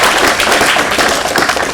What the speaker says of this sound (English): Also, a round of applause.